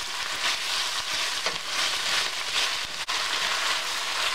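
Beef and bell pepper stir fry tossed in a hot pan, with a steady, dense sizzle and light scraping of the stirring running throughout, one brief dip near the end.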